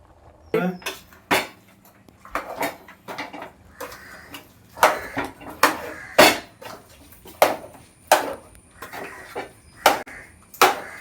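Mashed tapioca stirred in a cooking pot with a spoon makes repeated scraping knocks and clinks at an uneven rhythm, close by, with a voice talking in the gaps.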